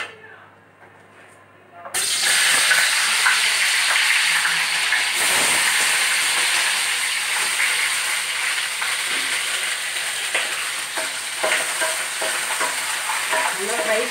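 Cauliflower pieces fry in hot oil, giving a loud, steady, close sizzle that starts abruptly after a quiet moment and continues throughout, with occasional stirring sounds and some talk underneath.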